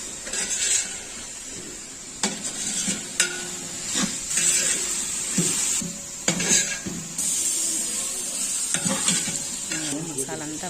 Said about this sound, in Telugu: దీంట్లోనే పచ్చిమిర్చి తర్వాత పుదీనా కొత్తిమీర మెంతాకు టమాటాలు ఇవన్నీ వేసేసి బాగా కలుపుతున్నాను